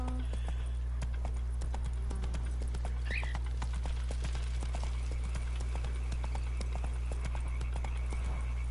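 Roach the horse trotting in The Witcher 3, a continuous patter of hoofbeats over a low steady hum, moderately close, with a brief whinny-like call partway through.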